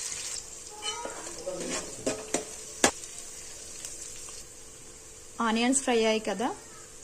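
Onions and green chillies fry in hot oil with cumin, giving a soft, steady sizzle broken by light clinks and stirring taps, with a voice speaking briefly near the end.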